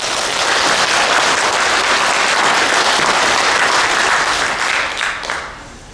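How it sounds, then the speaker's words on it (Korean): Loud, sustained applause from a church congregation during a New Year Sunday worship service, a dense wash of many hands clapping steadily for about five seconds before tapering off at the end. "오늘도 한 번 하나님께 영광의 박수 드리도록 하겠습니다"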